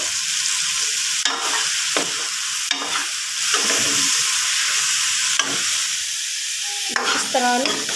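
Cauliflower sizzles and fries in hot ghee with browned masala, a constant loud crackle and hiss close up, broken by repeated scraping stirs of a spoon against the pan.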